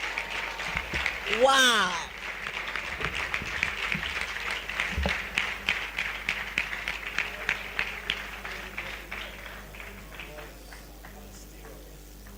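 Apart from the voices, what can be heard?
audience applause after a poem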